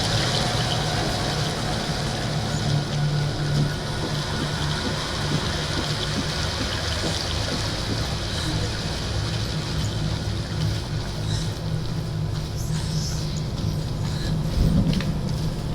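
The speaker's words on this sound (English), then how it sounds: "Hiding behind the waterfall." Steady rushing waterfall in the video game Hellblade: Senua's Sacrifice, a dense continuous wash of falling water heard from close behind the cascade, with a low rumbling hum underneath and no talking.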